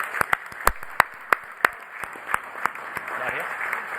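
Audience members at a Chelmsford town meeting give scattered, hesitant applause: distinct, sharp hand claps spaced irregularly in a hall, thinning out and giving way to low murmuring voices.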